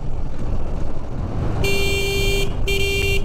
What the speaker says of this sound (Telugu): హారన్ కొడతా ఉండాలా.